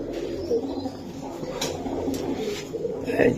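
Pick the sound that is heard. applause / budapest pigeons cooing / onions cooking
budapest pigeons cooing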